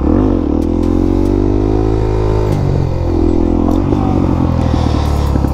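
Suzuki DRZ400SM supermoto engine loud and close during wheelie practice, revving up to gain speed, then easing off and dropping back as the bike slows, with steady engine drone throughout.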